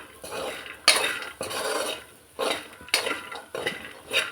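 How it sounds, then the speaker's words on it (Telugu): A metal spoon stirs chicken masala and ground spices in a pan, scraping and clinking against the metal in several distinct sweeps close by, with no voices. "ధనియా పొడి వేసుకున్నాక ఇది కూడా ఒకసారి కలుపుకోండి"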